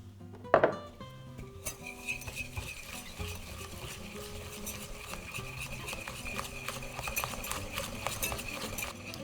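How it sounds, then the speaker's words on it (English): Egg yolks are whisked with palm sugar in a large bowl, a steady rapid rhythm of whisk tines clicking and scraping against the bowl after a brief clatter at the start, close and moderately loud with no talking. "In a large bowl, whisk in the egg yolks with the palm sugar."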